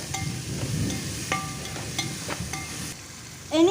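Carrots sauté in a hot pan for macaroni, a steady close sizzle broken by several light clinks of a spoon against the pan and a louder scrape at the end.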